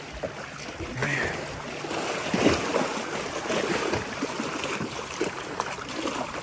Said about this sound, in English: But these waves are never ending out here.